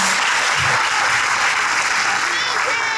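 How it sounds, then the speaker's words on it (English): Commencement audience applauding for Dr. Philip Stevens, a dense, steady wash of clapping hands filling a large hall, loud and continuous for the whole stretch without letting up. "would you please applaud for Dr. Philip Stevens"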